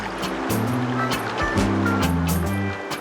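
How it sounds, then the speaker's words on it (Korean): Seaside water in Montenegro, a continuous close wash of waves and surf with steady broadband rush and a faint low hum underneath. "물소리도 이렇게나 청명합니다."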